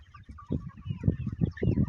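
Free-range desi chickens of the Double FG breed cluck in a farm run, several close, repeated bursts of low clucking overlapping in steady succession with no talk.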